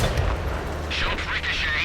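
A tank cannon shot ricochets off armor in the video game World of Tanks, a short booming impact followed by a bright metallic whine, with voices speaking over the game sounds.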